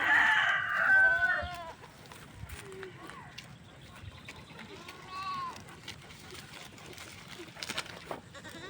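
A hen on a small farm plot clucks at the start, loud and close, while other poultry and goats call more faintly in the background alongside scattered voices.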